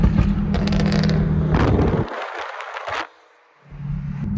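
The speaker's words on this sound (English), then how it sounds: "Oh, listen to those downshifts." A 700 WHP Toyota Supra with a tuned turbo engine roars and then downshifts, with sharp blips, whooshes and fluttering turbo bursts heard from inside the cabin, ending in a brief near-silence before the engine picks up again.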